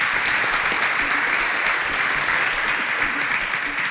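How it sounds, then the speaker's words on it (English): Studio audience at a televised student quiz show bursts into loud, dense applause for a contestant, a steady roar of clapping throughout. "A round of applause for Eto."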